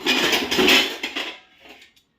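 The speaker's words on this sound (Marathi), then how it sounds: "वांग्याची भाजी शिजायला टाकली त्याच्यावर झाकण ठेवू" A lid set down on a pot of brinjal curry cooking on the stove, a short run of metallic clattering that fades quickly into silence.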